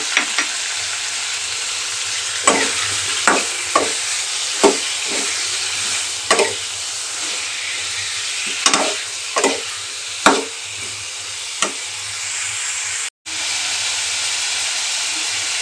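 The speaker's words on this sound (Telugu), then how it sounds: "ఇవి ఫ్రై చేసుకుంటాను. ఒక టేబుల్ స్పూను ధనియాలు కూడా యాడ్ చేస్తున్నానండి ఇందులో." Coriander seeds fry in a hot pan for paneer curry, giving a steady sizzle with repeated sharp crackles and pops as the seeds hit the oil and are stirred.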